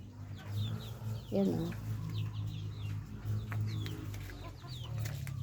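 Free-range chickens and young chicks cluck and peep in a continuous farmyard chorus, with a steady low hum underneath and someone talking over the birds.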